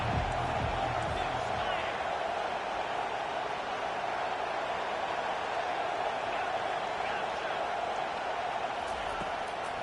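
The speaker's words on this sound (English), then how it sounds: "Decibels rising as the crowd gets behind this defense on 3rd down." A college football stadium crowd roars steadily on third down, a loud, sustained wash of cheering that holds at full volume throughout without a break.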